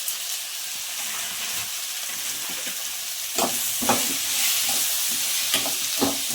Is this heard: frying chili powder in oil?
yes